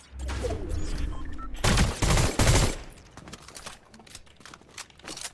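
Automatic weapon fire in Fortnite rattles in dense rapid bursts, loudest in a pair of sharp volleys near the middle, then trails off into scattered quieter shots.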